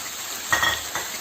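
Peeled, roughly chopped tomatoes, half a kilo, hitting a hot chicken karahi pan: a soft steady sizzle with a couple of brief utensil scrapes and clinks.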